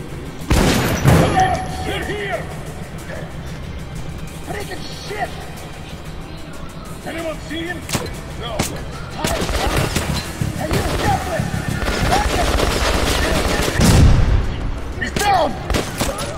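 Shotgun blasts in the video game Metro Last Light, several sharp booming shots spaced irregularly among crashes and impacts, loud and close, with a player talking over the action.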